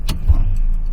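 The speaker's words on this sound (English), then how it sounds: "there's a lot of cars here" A car close by in a busy parking area near a trail, a loud low rumble of engine and tires that stays steady throughout, with a brief sharp click at the start.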